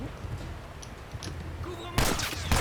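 Sniper gunfire in The Last of Us, a sudden loud crack with a booming tail near the end, following a stretch of quiet game ambience and faint voices.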